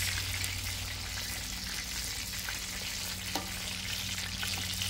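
Pecan-crusted walleye and onion rings fry in oil on a Blackstone griddle, giving a steady, dense sizzle that holds evenly throughout with no talking.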